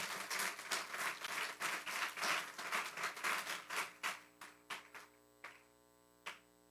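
A church congregation applauding during a sermon, a dense burst of clapping that thins into a few scattered claps and fades out, with a sustained organ or keyboard tone underneath.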